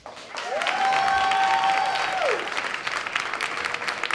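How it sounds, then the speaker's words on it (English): An audience bursts into applause at a live event, a dense wash of hand clapping swelling quickly and holding steady, with a brief sustained tone sounding over it early on. "give me a hand clap"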